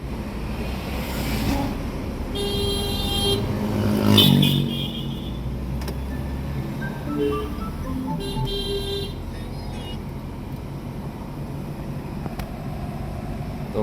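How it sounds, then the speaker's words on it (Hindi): A Maruti Suzuki Swift diesel automatic with a newly replaced clutch set and clutch bearing drives on a test run, engine droning steadily and close throughout, with faint brief tones in the background and no talk. "तो गाड़ी हमारी ओके चल रही है।"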